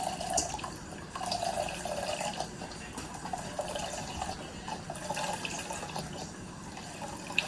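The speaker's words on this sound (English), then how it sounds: "We're going to add 4 cups of our beef" Beef broth for birria pours into a cooking pot with a soft steady liquid trickle and gurgle, fairly quiet and continuous, no talking.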